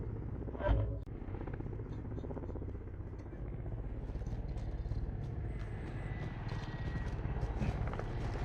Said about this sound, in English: Enemy supply choppers inbound.